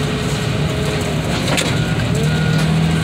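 A car crusher flattens a junk car, a dense, grinding roar of crunching metal with cracking and splintering bursts under a steady machine rumble.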